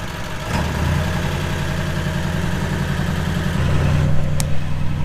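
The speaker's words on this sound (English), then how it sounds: "Excuse the loud truck." A loud diesel truck engine idles steadily nearby, a deep continuous rumble with low throbbing that swells slightly near the end.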